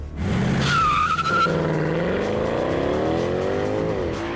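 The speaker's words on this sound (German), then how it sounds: "Mit einem unglaublichen 8-Zylinder-Bass und schreienden Pirelli-Schluppen ist der Mercedes nun in seinem Element" Tires of a Mercedes C63 AMG with Pirelli tires squealing loudly on a race track as the car corners hard, while a deep V8 engine rumble rises in pitch under the screech.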